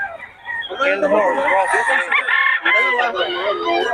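A stag rooster at a Bocaue gamefowl market crows repeatedly in loud, close, overlapping calls, with other fowl and market noise behind it.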